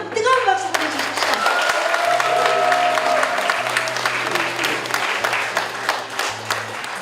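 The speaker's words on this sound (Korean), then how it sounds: "여러분 뜨거운 박수 보내주십시오." Audience applause rises at a book launch event welcoming a singer, a dense, steady wash of clapping over several seconds, with voices and a sustained tone mixed in beneath it.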